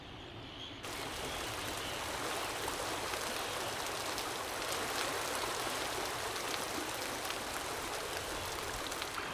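Meltwater rushes off a slowly melting glacier in a steady, dense wash of flowing water that starts abruptly and then holds at an even, fairly loud level.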